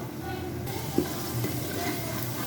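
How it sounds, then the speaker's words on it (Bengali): Beef with turmeric and coriander powder is stirred in a pan, a steady sizzle with soft scraping and one small clink, close and continuous. "এখন এটাকে ভালো করে মিক্স করতে হবে।"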